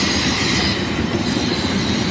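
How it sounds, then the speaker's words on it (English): A train braking, its wheels squealing steadily against the rails in a dense, continuous roar, heard up close by a walker in Whitewater, California. "I think the train's braking."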